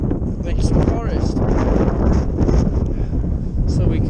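Strong wind buffets the microphone on a mountain walk up Pen Y Fan, a loud, steady roar of gusty rumble throughout, with a voice partly buried beneath it.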